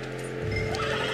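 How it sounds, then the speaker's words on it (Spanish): A horse in the video game Red Dead Redemption 2 gives a short, close neigh over a low background hum, with no one speaking. "Y hay un caballo ahí también"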